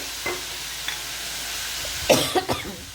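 Onion and tomato chutney sautés in a pan with a soft background hiss, then a short cluster of scraping stirs comes near the end, along with a faint cough.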